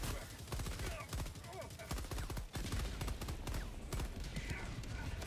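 Rapid bursts of automatic gunfire and explosions from the video game Helldivers 2 crackle steadily throughout, dense and sustained, with a voice speaking briefly amid the shooting.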